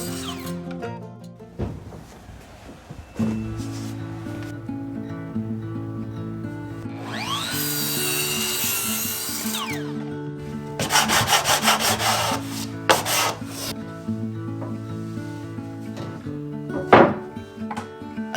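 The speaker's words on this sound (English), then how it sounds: "I'll make a slight angle with a circular saw to cut it diagonally." A circular saw cuts a floorboard diagonally during a floor renovation in a 40-year-old Japanese house, a short whining cut amid tapping, rubbing and handling of wood, with a background tone running throughout.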